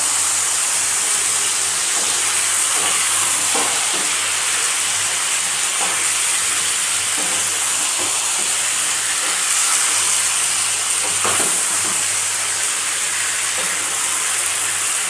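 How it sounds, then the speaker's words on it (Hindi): Chicken and onion frying uncovered in a pan for a Bengali chicken kosha give a steady, loud sizzling hiss that runs without a break, with faint scattered crackles and no voices. "अच्छे से इसको हम भूनेंगे भी चिकन और प्याज को कम से कम 7 मिनट तक"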